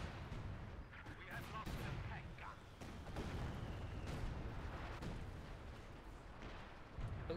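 Artillery fire in the World War II strategy game Company of Heroes 2 booms and rumbles through a dense, continuous battle din, with repeated sharp blasts over a steady roar of combat.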